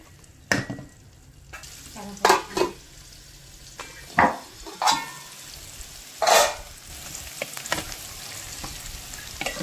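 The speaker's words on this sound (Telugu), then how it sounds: "ఆనియన్స్ని కూడా వేగనిచ్చిన తర్వాత ఇంకా ఒక 2 మినిట్స్ ఇలా ఆనియన్స్ ఉంచేస్తే సరిపోతుంది" Onions frying in a pan alongside stuffed brinjals, heard as a low sizzle punctuated by several sharp scraping and clanking strokes of a spatula against the pan, spaced irregularly and close by.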